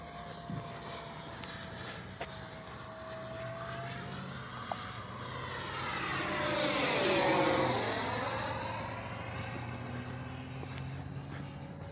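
A Freewing F-35 70mm EDF radio-controlled jet whines overhead, its ducted-fan roar building to a loud close pass and then fading with a falling pitch sweep as it flies away.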